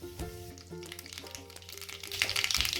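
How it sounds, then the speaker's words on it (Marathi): Mustard seeds, cardamom, cinnamon pieces and bay leaves sizzle and crackle in hot oil, with steady close frying and sharp popping that grows denser and louder toward the end. "आपण एक चमचा मोहरी घातली"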